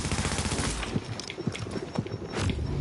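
Rapid gunfire from several players in an online PvP match of the video game DayZ, with dense, overlapping bursts of shots over a steady background of game noise.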